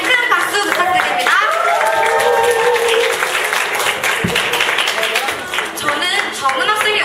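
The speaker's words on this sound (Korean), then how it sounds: "자신의 나눔을 멋지게 해준 정은 학생에게 큰 박수 부탁드립니다" Audience applause at a Korean school presentation and exhibition event, steady dense clapping from a crowd throughout, with voices mixed in.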